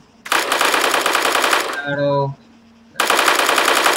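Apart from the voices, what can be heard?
M4 rifle firing in video game Arma 3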